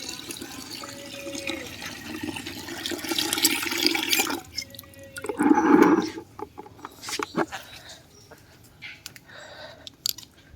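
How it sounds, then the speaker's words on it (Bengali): Water is poured onto plants outdoors, giving a faint splashing and trickling with one brief, louder gush midway amid light background noise. "এদিকে একটু জলটা একটু গরম দেব মানে রোদে দেবো আর কিছুটা জল গাছে দেব"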